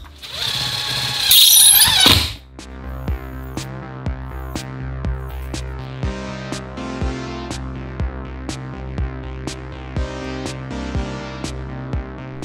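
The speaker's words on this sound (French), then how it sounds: "je me visse directement dans la fourrure du plafond qui est juste au-dessus et je mets des vis à peu près tous les 50 cm" A power screwdriver drives drywall screws up into metal ceiling furring for a plasterboard partition, opening with a loud two-second whir. A steady run of short, sharp clicks and taps follows at an even pace.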